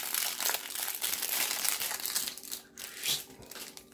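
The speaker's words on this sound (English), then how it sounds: "Let's tear right into this." Crinkly plastic packaging is torn and crumpled open on a Yu-Gi-Oh! 2019 Gold Sarc tin, a close, bright, continuous rustle with brief crunchy bursts.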